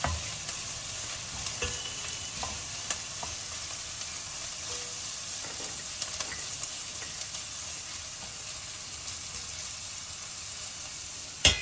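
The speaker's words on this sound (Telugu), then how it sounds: "ధనియాలు వేయించుకుంటాం" Quiet dry sizzling and scraping as coriander seeds are stirred and roasted in a hot pan, with occasional clicks of a spatula.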